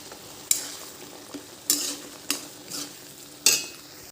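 Boiled raw mango being mashed in a pan for chutney: a handful of sharp utensil knocks and scrapes against the pan, spaced irregularly over a faint background hiss, close and without speech.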